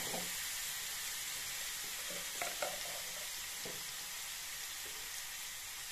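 Grated carrots sizzle steadily in desi ghee for carrot halwa, a constant close frying hiss broken by occasional soft scrapes of stirring, with no voices.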